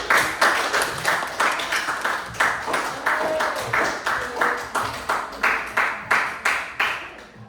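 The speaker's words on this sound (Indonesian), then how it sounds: "mari tepuk tangan" A class in an Indonesian poetry lesson claps together: sharp, evenly spaced hand claps repeat at a brisk steady beat, about two or three per second, throughout.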